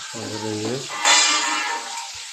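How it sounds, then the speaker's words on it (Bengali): Fish frying in a pan during village cooking, a steady sizzling hiss that swells briefly midway, with a voice speaking over the start. "এখানটা মাছ ভাজি করতেছি"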